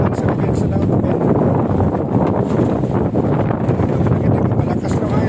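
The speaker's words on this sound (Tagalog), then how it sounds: "Malakas na hangin ka ba yan." Strong wind gusting out at sea off Kudat, a loud, continuous roar buffeting the microphone, with a voice talking over it.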